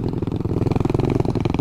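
A mini motorcycle engine runs steadily on a dirt trail, its loud, close, buzzing drone pulsing rapidly and continuously with no talk over it.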